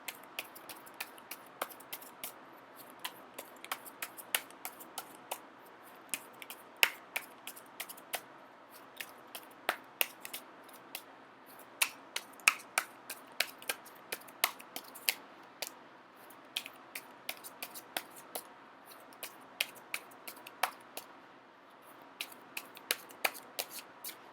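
Tarot cards are shuffled continuously at close range, with crisp irregular riffling snaps and flicks over a quiet background.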